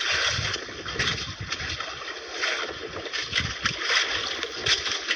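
Strong wind roars across the microphone while sea waves splash and slap against a small fishing boat in uneven bursts.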